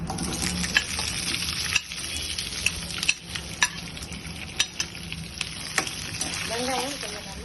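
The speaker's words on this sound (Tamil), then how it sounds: "இப்போ வெங்காயம் போடணும்" Onions frying in a pan for coconut onion chutney, a steady sizzle under repeated sharp scrapes and taps of a spoon stirring against the pan, with a brief squeaky scrape near the end.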